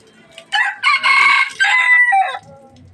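A rooster crows loudly and close by in one long drawn-out call among clucking chickens, with a softer cluck trailing at the end.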